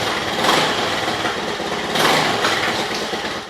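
A Honda 2 hp outboard motor with a swapped carburetor revs up close and loud in a couple of rising bursts over a steady buzzing run.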